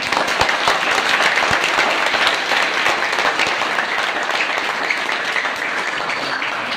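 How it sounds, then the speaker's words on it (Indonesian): Audience at a religious debate between students breaks into loud, sustained applause, dense clapping filling the room throughout. "Gus Ali minta aplaus yang meriah untuk kita semuanya."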